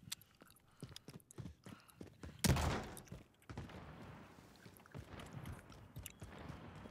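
Gunfire from the video game Warzone crackles in quick scattered bursts, with one heavy loud blast standing out midway, followed by continuing faint shots and clatter.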